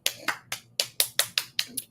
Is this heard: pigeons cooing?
no